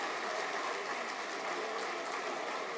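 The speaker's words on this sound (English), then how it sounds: "they all get onto their feet and begin applauding" A standing crowd at an Army honors event breaks into applause for guests of honor, a steady, fairly faint wash of clapping that stays even throughout without distinct individual claps.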